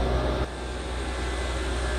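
Twin Caterpillar CAT C32 ACERT diesel engines run in the engine room of a Hatteras M90 superyacht, giving a steady, dense, droning roar that stays constant with no voices.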